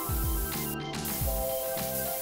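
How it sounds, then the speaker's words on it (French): Spray paint hissing from an aerosol can onto a wall in short, repeated bursts, close and steady, as two people compete to cover the most space. "C'est un duel à la peinture en spray qui va couvrir le plus d'espace."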